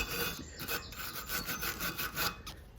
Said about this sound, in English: So I'm just going to wire brush this area